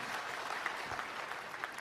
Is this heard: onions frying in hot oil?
no